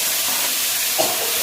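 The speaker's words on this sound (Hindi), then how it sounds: "प्याज को मैं गोल्डन ब्राउन करके फिर मैं आपको दिखाता हूँ" Chopped onions sizzle steadily in a hot pan while browning, a continuous close hiss of frying with a brief stir-like rustle partway through.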